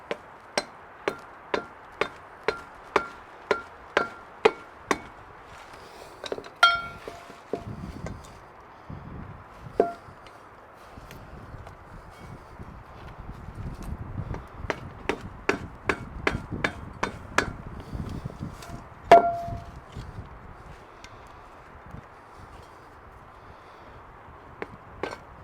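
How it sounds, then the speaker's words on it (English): Sharp metallic hammer taps on a wheel bearing removal tool, knocking out a travel trailer's wheel bearing, strike in a quick steady series, pause, then resume in another run of blows, close by with faint background rumble. "use this wheel bearing removal tool to pop it out of there and just lightly bump it with a hammer"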